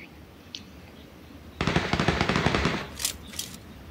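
Rapid gunfire crackles in a battle royale video game, a short burst of distant shots followed by a couple of sharper cracks against quiet background noise.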